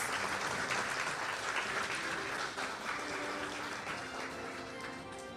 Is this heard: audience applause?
yes